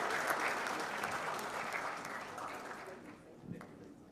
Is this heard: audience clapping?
yes